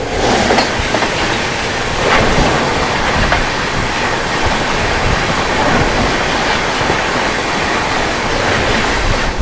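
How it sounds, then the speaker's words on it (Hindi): Telangana Express running from New Delhi toward Hyderabad Deccan Nampally roars past at a crossing in daytime, a loud, steady broadband rumble with wheel clatter throughout, no voices. "सामने से आ रही है न्यू दिल्ली से चलकर हैदराबाद डेक्कन नामपल्ली की ओर जाने वाली तेलंगाना एक्सप्रेस"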